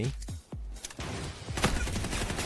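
Sniper gunfire rings out in the online shooter game Delta Force as a loud cluster of sharp, reverberant shots. The shots come in rapid succession over a couple of seconds.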